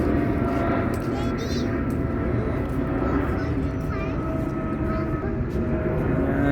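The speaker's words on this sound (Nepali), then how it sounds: "यहाँनिर जाँदैछ प्लेन पनि" An airplane passes over a Dubai market on a morning, its broad engine rumble filling the scene steadily while people talk nearby.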